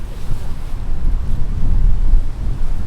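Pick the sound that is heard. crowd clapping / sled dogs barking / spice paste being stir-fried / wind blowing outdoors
wind blowing outdoors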